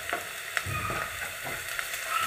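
Ground spices such as chili powder, coriander, Kashmiri chili, turmeric and cumin sauté in a pan with a soft, continuous sizzle. A few sharp spatula taps and stirring scrapes punctuate it at close range.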